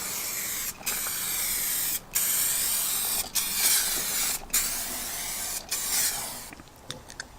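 A rattle can sprays clear coat over a Nissan Skyline's engine bay in a driveway. Close, loud hissing bursts come one after another, separated by brief pauses, with no voices.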